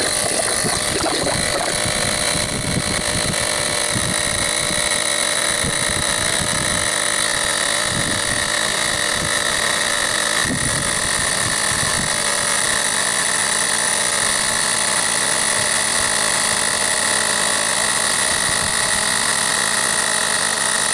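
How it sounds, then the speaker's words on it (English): An Auxito A501 portable tire inflator runs continuously while pumping up a tire, giving a steady, close buzzing compressor hum with a high mechanical whine that holds unbroken throughout, with no talking. "So we'll just push the power button and see if we can pump this tire up."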